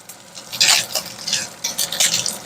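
Bacon sizzling and spattering in a hot pan, bursts of crackling fat rising and falling with stirring and light clinks of utensil against the pan.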